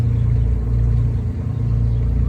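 A steady, heavy engine rumble from a 58-foot Hatteras yacht's engines and generators drones without pause, low and constant, as if heard from nearby on board; no voices.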